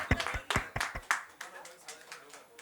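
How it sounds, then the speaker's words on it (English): An audience claps at a group gathering, several sharp claps in an uneven burst that thins out and fades into scattered softer claps. "হাততালি"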